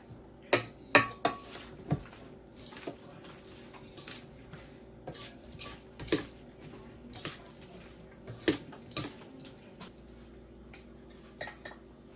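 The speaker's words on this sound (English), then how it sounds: "Stir it up." A utensil stirs food around in a pan, making a string of bright metallic clinks and scrapes at an irregular pace, close and fairly clear, with no talking.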